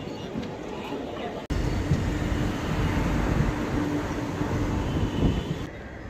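Teesta Torsa Express train running, a steady loud rumble and rattle heard from inside the carriage, starting abruptly after a brief quieter moment and continuing with some voices beneath.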